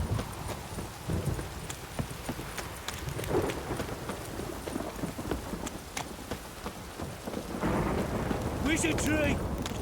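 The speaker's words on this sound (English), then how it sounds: "This downpour's a bastard, it is." A heavy, steady downpour in The Witcher 3: Wild Hunt, dense rain pattering on surfaces, with clattering hooves and distant thunder-like rumbles mixed in.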